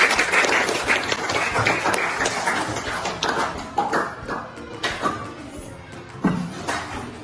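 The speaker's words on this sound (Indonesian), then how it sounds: "Beri tepuk tangan." Students in a classroom lesson clap on cue, a loose burst of clapping that fades into scattered claps, knocks and room noise.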